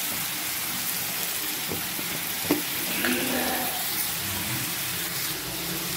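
Onion fries in an iron pan with a dense, continuous sizzle like steady rain, loud and close throughout, with a few faint stirring knocks and no voices.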